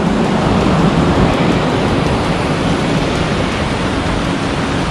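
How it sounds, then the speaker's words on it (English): Fast water rushes through rocks below a hiking trail on the Bruce Trail's Iroquoia Section, a loud, close, steady roar that fills the whole stretch with no voices. "See the fast running water through the rocks, all the way up and all the way down."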